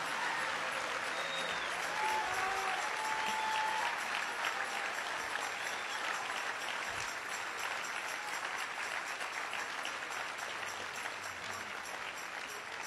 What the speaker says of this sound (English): You wonder why these people clapped so loud when you stood up?